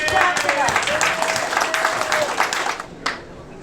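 Guests at an 80th birthday party break into loud, dense applause with some crowd noise, fading toward the end as a voice begins speaking.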